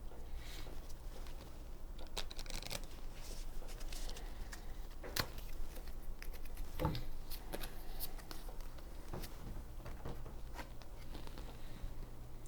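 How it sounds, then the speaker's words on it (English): A deck of cards is shuffled at a tabletop card game final, giving a steady run of soft riffling clicks and flicks at close range for several seconds, with no talk. "He's shuffling."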